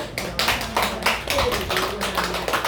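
A church congregation applauds to welcome a newcomer, a dense, close burst of many hands clapping in uneven pulses that runs throughout, with a voice faintly underneath.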